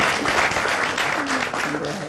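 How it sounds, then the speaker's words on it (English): An audience applauds at a Ghanaian presidential encounter event, a dense wash of clapping with a voice speaking over it partway through. "A round of applause for GBC."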